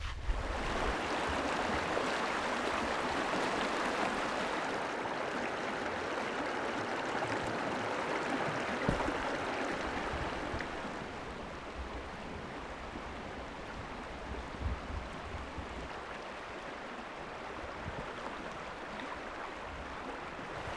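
A Montana creek near a crossing rushes steadily, with broad, continuous water noise that is loud at first and eases slightly partway through, heard alone with no voices.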